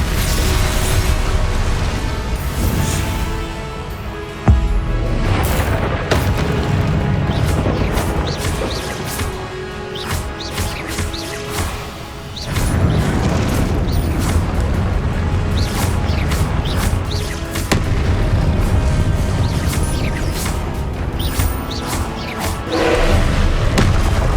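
Repeated Confringo fire spells in Hogwarts Legacy, loud booming blasts and thuds going off in quick succession over continuous game noise, with one sharper burst near the start.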